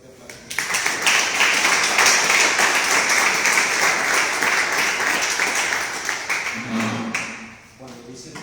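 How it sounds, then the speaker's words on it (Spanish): An audience at a conference gives a welcomed speaker a loud, sustained round of applause lasting several seconds. It fades near the end as a voice begins speaking. "Le damos un fuerte aplauso."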